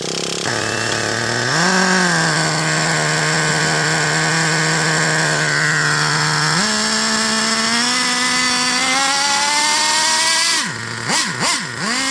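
An engine runs at a steady idle, then its pitch steps up as the throttle is eased open and it settles at a higher idle, running rich; loud and close, with a brief dip and sputter near the end.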